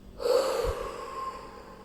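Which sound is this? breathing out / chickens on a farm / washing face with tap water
breathing out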